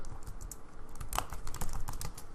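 Python code is typed on a computer keyboard in a fast, steady stream of close clicks, with one sharper keystroke standing out over a constant low room rumble.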